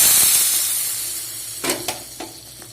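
Hot tempering (oggarane) poured into boiling sambar hisses steadily, then crackles in two or three sharp sizzling bursts that quickly fade.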